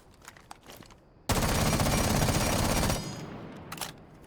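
A muzzle-equipped automatic gun in Rainbow Six Siege lets off one loud, continuous burst of rapid shots lasting under two seconds, set between quieter scattered taps and footsteps before and after.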